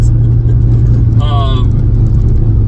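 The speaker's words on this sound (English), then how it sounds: "The V8 sounds amazing." A 1981 Aston Martin V8 Volante engine hums steadily at close range, a deep continuous rumble with no pauses or revving.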